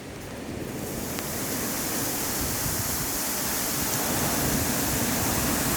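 A waterfall pours as a steady, dense roar of rushing water in open terrain, loud and even throughout with no voices.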